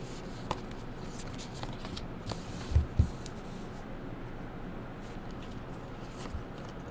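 Tarot cards are shuffled quietly with soft riffling, rustles and a few light taps, heard close up in a calm room.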